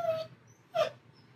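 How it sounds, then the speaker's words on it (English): Dogs whine to be let out, giving two short, high, plaintive whimpers with a pause between them. The whines sound fairly close in an otherwise quiet room. "even though there's whining dogs"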